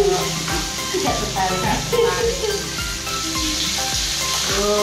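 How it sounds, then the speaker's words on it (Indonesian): Food frying in a pan for a home-cooked Indonesian meal of oseng kates, corn fritters and sambal, a steady loud sizzle throughout, with faint rhythmic tapping and background music. "Ayo dah, goreng dulu ya."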